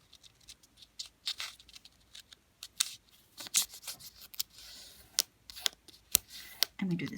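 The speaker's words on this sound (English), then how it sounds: "now this flap we fold it to the top corner" Paper being folded and creased by hand, a run of crisp rustles and sharp crinkles at an irregular pace, close up, with a voice talking softly underneath.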